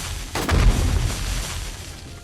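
An explosion in the video game 7 Days to Die bursts with a sharp crack followed by a deep rumbling boom that trails off slowly, fairly loud with no talking over it.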